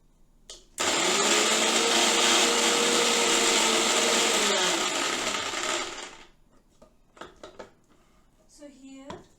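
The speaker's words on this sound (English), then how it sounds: "we have to just grind them well. So I'll grind." A blender grinds fenugreek seeds into a paste, a loud steady whirring drone that runs for about five seconds, then winds down and stops, followed by a few clicks and a brief voice.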